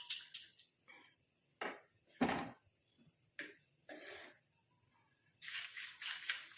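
Dry-roasted grated coconut, curry leaves and black cumin rattle and clatter against a metal vessel in several short, crisp bursts separated by brief pauses, close and fairly faint.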